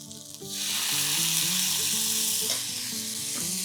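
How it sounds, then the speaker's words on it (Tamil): Chicken spring roll filling frying in a pan with sweet sauce and a splash of vinegar, a loud, dense sizzle that swells suddenly after a brief quieter start and then holds steady with no voices. "அதுவும் போட்டு நல்லா இப்படி ஃப்ரை பண்ணிக்கோங்க."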